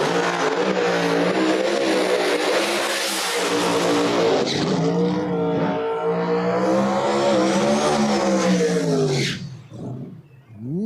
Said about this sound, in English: So Jerry Bird with the bye run.